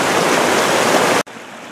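Loud, steady rush of a creek flowing close by at a crossing on Marble Creek Trail, cutting off abruptly to a much quieter background.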